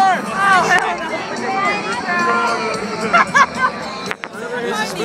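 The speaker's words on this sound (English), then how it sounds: "I'm here in the crowd waiting for the show to start" A dense crowd at an outdoor rally waiting for a show to begin, a loud close babble of many overlapping voices with a few louder shouts and bursts, a constant hubbub throughout.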